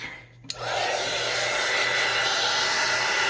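A hair dryer switches on with a sharp click and then blows a steady, loud, close rush of air, drying acrylic paint on a gelli plate print, with no voices.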